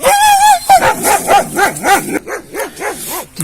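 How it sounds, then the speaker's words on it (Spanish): Several dogs, a household's own and the neighbour's, bark, yip and whine loudly in an overlapping, excited chorus, close and continuous, with no talk. "se ponen a conversar muy fuerte mis perritos con los perritos del vecino"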